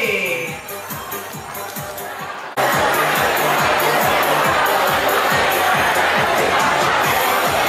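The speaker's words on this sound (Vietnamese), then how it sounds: "Một tràng pháo tay thật lớn quý vị cùng chào đón bác Kim Văn Nghĩa đẹp quý vị ơi" Guests at a village wedding ceremony in Vietnam greet a speaker with a sudden burst of crowd applause and cheering that starts loud and full after a quieter opening, then holds steady with rhythmic clapping beneath the noise.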